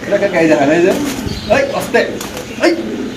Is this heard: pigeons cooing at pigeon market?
yes